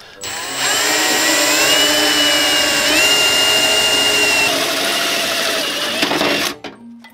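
A cordless screwdriver works on a car during a Saab and Subaru build, giving a steady, loud, whining motor hum that holds for about six seconds before cutting off, with no talk over it.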